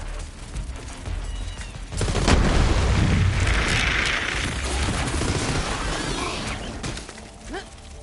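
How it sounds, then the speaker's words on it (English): Heavy gunfire and explosive blasts in the shooter game Borderlands 3, a dense, loud barrage that swells after the first two seconds and rumbles on continuously, with booming low impacts and crackling bursts and a player talking faintly underneath. "Stop shooting, please."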